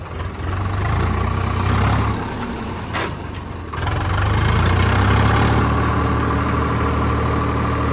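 Diesel tractor, a Massey 7250 or Swaraj 744XT, idles in a narrow, congested lane by a broken culvert: a steady low engine drone close by, easing briefly in the middle before returning stronger, with no talk.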